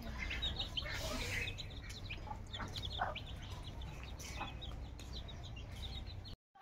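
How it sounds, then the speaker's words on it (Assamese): Chickens and ducks make faint, scattered clucks and soft calls over a low background hum, at a moderate distance and fairly quiet, until the sound cuts out at the end. "মুৰ্গী কেইটাও হয়, আৰু হাঁহ কেইটাও হয়।"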